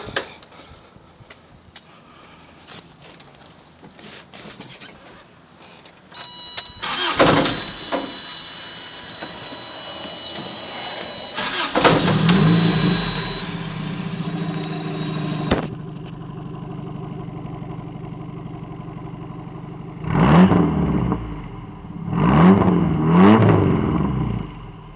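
A 1986 Toyota pickup fitted with smoke stacks cranks and starts, then idles and revs in several loud bursts, its exhaust note rising and falling between quieter idle stretches.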